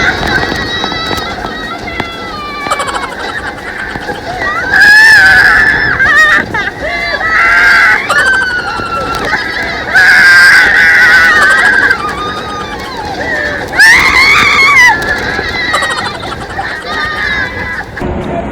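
Riders screaming on the Ninja roller coaster, loud high-pitched shrieks and yells from a crowd in repeated bursts over steady rushing ride noise.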